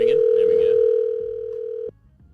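A telephone tone sounds on a radio show call, a single steady tone holding for nearly two seconds before cutting off abruptly, with faint background noise after.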